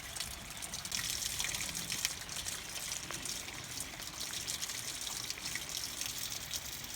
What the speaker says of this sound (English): Water's going in, so that's the main thing.